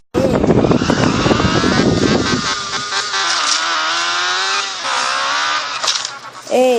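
A motorcycle in a video game revs and pulls away, a loud whining engine tone rising and shifting pitch, with voices talking over the start.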